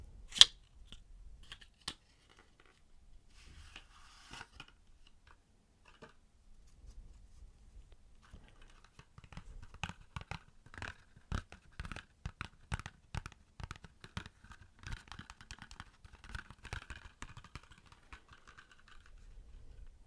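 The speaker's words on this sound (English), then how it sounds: "So let's open the deck." A new deck of playing cards is opened, with sparse crinkles and taps at first, then a run of crisp, rapid tearing and clicking snaps of cellophane and cardboard heard close and quiet.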